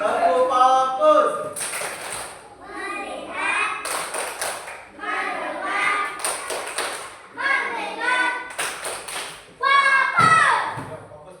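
Children in a classroom doing a clapping chant routine, bursts of sharp hand claps alternating with young voices chanting in rhythm, close and lively.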